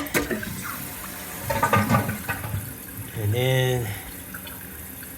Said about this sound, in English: now I'm gonna flush it